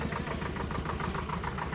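A Normag Zorge tractor engine runs steadily at idle with a rhythmic, knocking mid-pitched chug, close and continuous with no other sounds.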